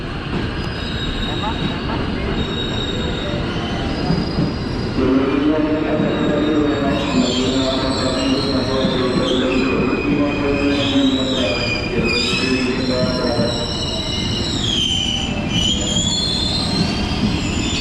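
A KRL commuter train arriving at a station rumbles loudly and steadily, its wheels squealing in high, wavering screeches as it moves along the rails.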